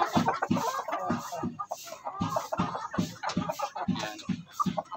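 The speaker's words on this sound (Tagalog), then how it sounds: "magandang manok rito" Chickens cluck repeatedly in short, uneven bursts, fairly close and loud, with a few overlapping calls from other birds.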